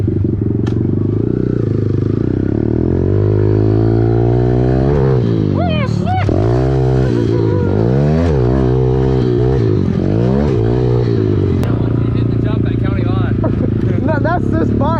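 A dirt bike engine runs loud and close, idling steadily and then revving up and down in repeated sharp bursts through the middle before settling back to a rough idle, with some background voices.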